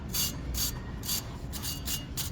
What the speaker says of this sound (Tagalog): Yan, gagamit ako yung steel brush.